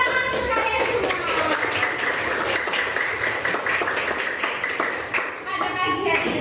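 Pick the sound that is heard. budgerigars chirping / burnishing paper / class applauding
class applauding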